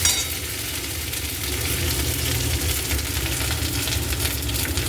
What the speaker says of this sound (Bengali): হাফ চামচ মতো পেঁয়াজ বাটা, হাফ চামচ আদা বাটা, এইগুলো দিয়ে ভালো করে কষিয়ে নিচ্ছি